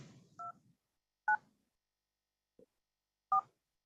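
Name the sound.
telephone keypad DTMF tones entering meeting ID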